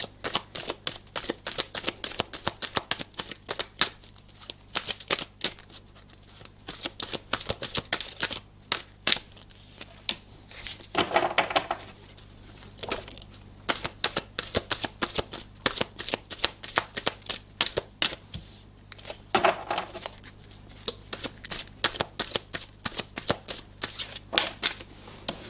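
Playing or tarot-style cards being shuffled for a reading draw, with a long run of rapid riffling flutters and slaps in quick bursts, close and fairly quiet, with no talking.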